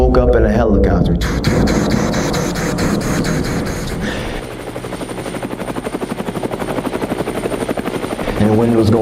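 A loud helicopter roars overhead, its rotor thumping in a rapid steady beat that grows more pronounced midway, with voices partly heard beneath the noise.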